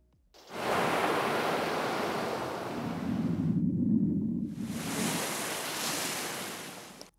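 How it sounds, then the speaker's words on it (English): Waves washing and sizzling onto a sandy beach, a loud rushing surge that swells in, briefly drops to a low rumble, then returns as hissing foam on the sand before cutting off. "the waves sizzling on the sand ramp in"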